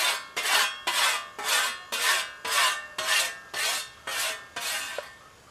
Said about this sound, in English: whenever you're using the whetstone, it's a whetstone, it should be wet